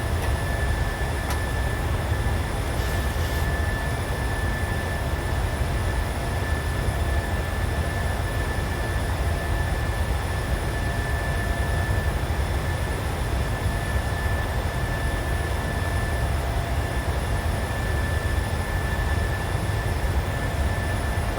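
Jet engines of a PMDG 737-600 in a flight simulator drone as a steady, unbroken roar with a thin high whine on top, constant in loudness throughout and with no voices.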